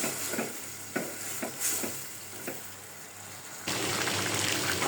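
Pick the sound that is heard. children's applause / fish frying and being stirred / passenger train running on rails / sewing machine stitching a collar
fish frying and being stirred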